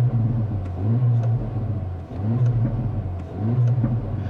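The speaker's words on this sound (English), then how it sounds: "some bangs and pops from the exhaust" A 2024 Acura Integra Type S, set to Sport Plus with its exhaust valves open, rumbles in low, surging engine pulses. Faint crackling pops break through at intervals, close and alone with no talk.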